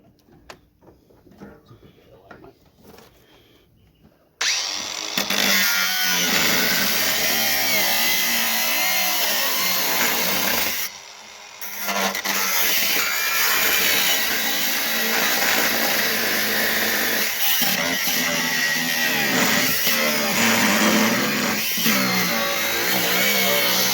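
A power saw cuts through the front end of a Jaguar car with seized bolts: after a few quiet seconds a loud, harsh, continuous grinding whine starts and runs on, with one brief dip partway through.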